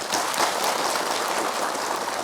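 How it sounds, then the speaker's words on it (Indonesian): Audience applause at an Islamic sermon gathering, a dense, even wash of clapping from a crowd that holds steady for a couple of seconds with no talk over it. "Tepuk tangan dulu semuanya."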